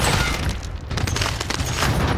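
Allied cluster strike explosions in a video game battle, a dense, continuous barrage of booms and blasts rolling loudly through the whole moment without pause.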